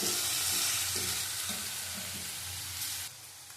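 Onions sizzle and fry steadily in hot oil for a catla fish curry, a dense close hiss with light stirring, cutting off abruptly near the end.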